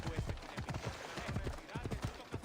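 Horse hooves clip-clop in a steady galloping rhythm in Assassin's Creed Odyssey, close and fairly loud throughout, with a speaking voice and game sounds layered over them.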